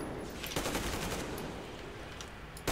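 Automatic gunfire echoing inside a hall in Metro Exodus, a continuous rattle of rapid shots with a reverberant tail, loud and close throughout.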